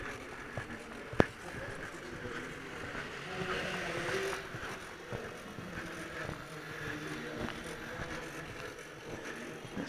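Rotors of a small RC autogyro spin up with a steady, close whirring drone that holds for the whole stretch, marked by one sharp click near the start.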